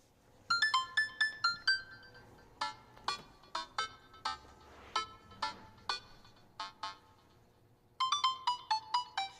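A melodic phone ringtone plays in a video game as a pizza place is called on speed dial, repeating rising and falling electronic note runs with brief gaps, fairly quiet and without speech.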